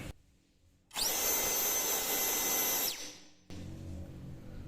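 A Makita-style LXT 20V brushless turbo jet fan spins up into a loud, steady roaring whoosh with a high whine for about two seconds, then winds down, leaving lower background noise.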